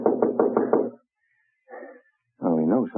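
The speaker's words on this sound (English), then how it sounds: "Now we'll play a little knock-knock." Knocking on a house door in an old radio drama, a quick run of several sharp knocks, then a muffled reply and a voice speaking after a pause.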